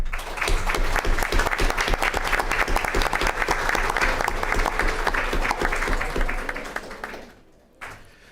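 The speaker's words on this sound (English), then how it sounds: "How about another round of applause for these students?" Audience applause at a school district board meeting honoring high school students: a room full of steady, dense clapping that fades out near the end.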